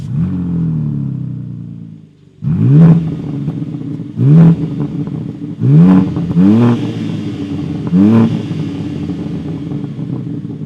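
A BMW M4 Competition with a valved exhaust is revved hard, loud and close, in about five sharp blips that rise and fall over a steady idle after a brief silence.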